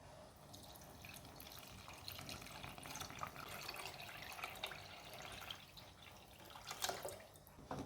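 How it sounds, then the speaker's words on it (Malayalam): Thin second coconut milk is poured into a pot of pazham pradhaman, a banana payasam, making a faint, continuous liquid trickle with small splashy drips close by. "ഇതിലേക്ക് തേങ്ങയുടെ 2ാം പാല് ചേർക്കാം"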